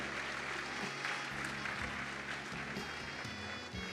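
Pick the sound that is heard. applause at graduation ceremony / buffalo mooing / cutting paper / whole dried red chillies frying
applause at graduation ceremony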